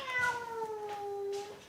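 A cat gives one long, drawn-out meow that falls in pitch, close and clear. It is out on a harness, with faint background noise.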